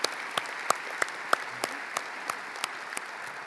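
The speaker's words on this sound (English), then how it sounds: "Let's give our parent organizations a big round of applause." Scattered, evenly spaced claps ring out from a graduation audience at the Glenelg High School 2023 commencement ceremony, sounding faint and thin, more like a few people clapping than a full ovation.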